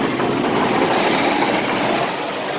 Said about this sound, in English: I'll get the tractor warmed up here.